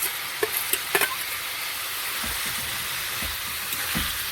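Prawns sizzle and fry in a pan as a steady, soft crackle that carries throughout, with a few brief clinks of utensils early on.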